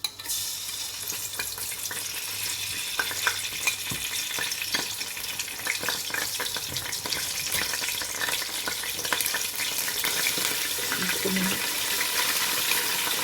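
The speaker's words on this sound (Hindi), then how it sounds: "और ये अब हम इसमें लहसुन और अदरक डाल रही हूँ" Garlic and ginger frying in a pan for chicken nehari, a steady close sizzle with scattered stirring clicks and some water-like splashes throughout, no talking heard.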